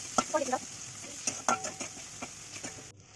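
Gentle frying sizzle of onion and tomato with cumin powder, salt and turmeric in a pan, with several spoon scrapes and stirring taps, close and moderately quiet, ending abruptly.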